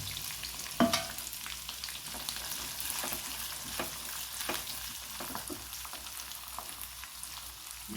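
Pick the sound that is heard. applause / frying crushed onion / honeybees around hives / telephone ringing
frying crushed onion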